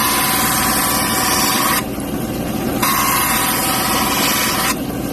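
Cabochon stone ground on a 60 grit wheel during a cabbing demonstration, a steady loud broadband whir that changes character briefly in two spots, with no talking.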